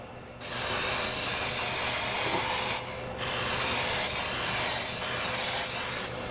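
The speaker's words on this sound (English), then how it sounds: "Now I spray it. Aquanet." Two long hissing bursts from an Aqua Net hairspray can, sprayed close up with a short pause between them.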